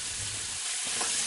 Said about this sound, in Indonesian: Ibu masak ayam goreng ini.